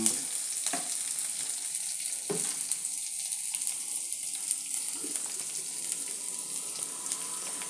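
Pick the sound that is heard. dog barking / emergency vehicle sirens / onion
onion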